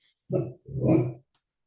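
A sleeping dog lets out two muffled, throaty woofs with a low growl, close by and otherwise quiet.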